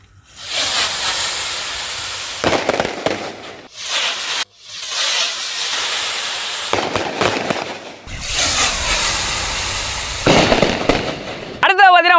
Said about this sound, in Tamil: ஒரு 5 வானத்தை ஒன்றா வச்சு சுருட்டி வீசுகிறோம்